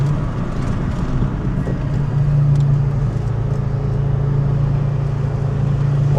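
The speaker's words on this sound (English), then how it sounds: "You don't expect to see an old Volvo estate driving and sounding as cool" An old Volvo 850 GLT estate accelerates on the road with a loud, steady engine drone and a rising tone, heard from inside the car without any talk.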